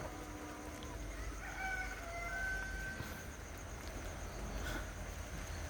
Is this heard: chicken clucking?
yes